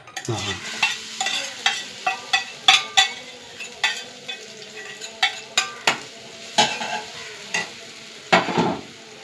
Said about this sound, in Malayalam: ഇത് ഇട്ട് വറക്കട്ടെ കേട്ടോ